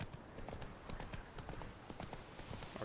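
Hooves of a horse beat in quick, regular clip-clops as it runs in the video game The Witcher III, fairly faint and steady across the whole stretch with a light ambient bed beneath.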